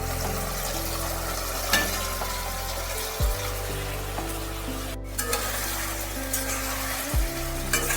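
Boiled potatoes sautéed with jackfruit curry in goat fat, giving a continuous close sizzle with scraping stirs against the pot and a low steady hum underneath.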